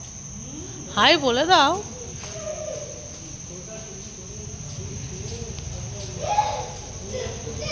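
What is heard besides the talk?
crickets chirping at night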